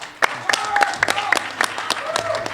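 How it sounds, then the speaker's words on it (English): Reporters and guests at a boxing post-fight press conference applaud, with scattered, distinct claps over a murmuring crowd while people talk through it. "So a big hand of applause for Robert Garcia as well."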